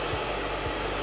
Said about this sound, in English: We're going to blow dry all forward.